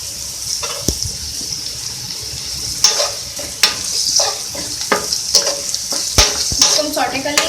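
Red chilies and curry leaves sauté in hot oil, sizzling loudly with bursts of spitting and stirring clatter, nearby and uneven.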